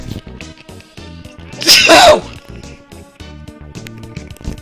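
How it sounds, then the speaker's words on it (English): A single sharp sneeze bursts out close up over quiet background music. "Sneeze."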